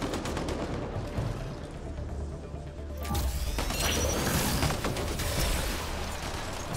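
Gunfire in the Mass Effect Andromeda game crackles in dense bursts over a rumbling background, growing louder and more chaotic midway, with mechanical clatter mixed in.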